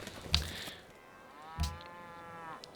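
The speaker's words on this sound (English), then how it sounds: "And we have cows, so we're going to be hearing a lot of mooing." Cattle in the Civilization 5 strategy game give two drawn-out lowing moos, the second a long tonal call, fairly close and clear, with no talking over them.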